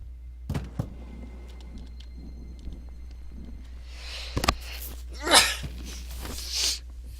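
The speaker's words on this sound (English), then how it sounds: "I need to sneeze." A person sneezes twice in quick succession mid-recording, sharp breathy bursts against a quiet room background with a few soft thumps before.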